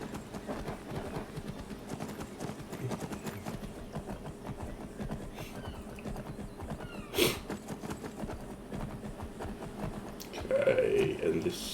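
Horse hooves clip-clop at a steady walking rhythm in Skyrim, a horse with a broken leg heading toward a cave, with faint game ambience and a brief louder sound near the end.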